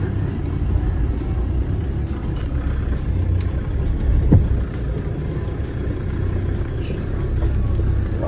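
A Land Rover Discovery TD5 grinds along off-road, its diesel engine a steady low rumble inside the cabin with a brief thump partway through, and no voices heard.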